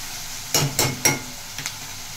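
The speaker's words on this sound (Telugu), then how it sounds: "చక్కగా ఉల్లిపాయ మనకి బాగా మగ్గాలన్నమాట." Onions fry in a pan for a mutton and cucumber curry, giving a soft sizzle broken by three quick stirring scrapes close together, then a fainter pair of clicks.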